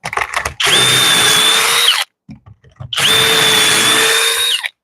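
A power drill whines loudly in two long bursts, each held for over a second, separated by a brief pause with small clicks.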